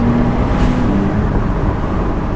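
A 2020 Porsche 992 911 Carrera S Cabriolet engine revs on a downshift, a steady loud roar with a brief rising note near the start that settles into a continuous drone.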